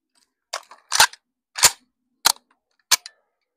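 Five sharp gunshots fired at a shooting target on a range, spaced roughly half a second apart, loud and close with silence between each report.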